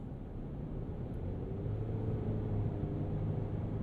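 A 2023 Chevy Colorado Trail Boss pickup with 310 horsepower accelerates at light throttle, giving a low, steady engine rumble from inside the cab that rises slightly in pitch and loudness partway through.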